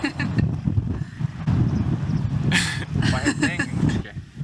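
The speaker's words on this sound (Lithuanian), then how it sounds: "vėjas ir taip taršo" Gusty wind buffets the microphone outdoors at a windy southern point in Finland, a loud, continuous low rumble with a brief flutter partway through, while people talk over it.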